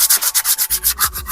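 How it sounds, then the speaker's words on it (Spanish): A Volkswagen Beetle rear brake shoe is sanded by hand to remove its glazed surface, giving about ten quick rhythmic rasping strokes up close, loud and scratchy, with no talk. "lo primero que voy a hacer es darle una pequeña lijadita a la balata para quitarle todo lo cristalizado"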